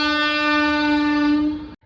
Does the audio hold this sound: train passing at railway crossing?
yes